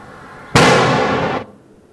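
A two-metre length of detonating cord fires in a quarry blast as one sudden, loud, sharp crack. It holds as a dense roar for about a second, then cuts off abruptly, with no voices.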